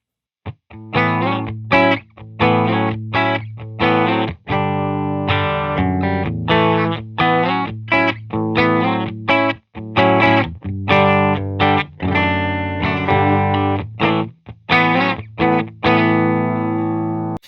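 A 2012 Fano PX6 electric guitar through a distortion pedal chugs out rhythmic chords and riffs, gritty and loud, with short pauses between phrases.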